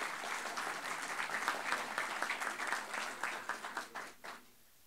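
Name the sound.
audience applause for a panel speaker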